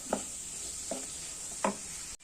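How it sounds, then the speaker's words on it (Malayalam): Masala spices for a beef curry sauté in a pan under a constant faint sizzle, broken by three soft, evenly spaced stirring scrapes before the sound cuts off abruptly. "അപ്പോൾ നമ്മുടെ മസാലകളെല്ലാം ഇട്ടിട്ട് ഇതിൻ്റെ പച്ചമണം മാറുന്നവരെ നമുക്ക് ഒന്ന് വഴറ്റിയെടുക്കാം"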